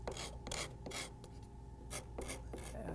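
A hand scraper rasps across shaped wood on a sculpted stool seat, quiet and close, in a series of short, even scraping strokes with brief gaps between them.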